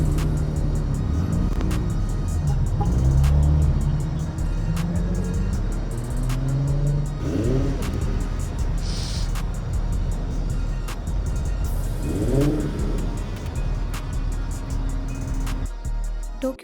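Cars revving on a Tokyo street at night, loud engine roars that rise and fall in pitch several times over steady traffic noise.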